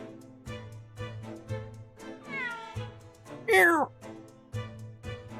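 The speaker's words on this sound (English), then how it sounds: "Wagahai, our boy Wagahai the cat, lives in Natsume's room because he's Natsume's cat" Wagahai, a cat in the Ace Attorney Chronicles 2 video game, meows repeatedly over game music, with a rising cry mid-clip and a louder, sharper meow soon after.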